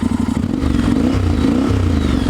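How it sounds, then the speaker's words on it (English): A Honda X-ADV 750 scooter fitted with an aftermarket exhaust idles close by, giving a steady, throbbing low rumble with a slight lumpy pulse and a faint clatter, with no talking over it. "Actually sounds quite nice with the aftermarket exhaust."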